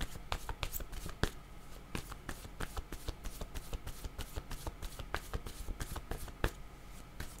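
Tarot cards are shuffled and drawn by hand in a quiet room, making a rapid, irregular run of crisp flicks and soft slaps close up, fairly faint throughout.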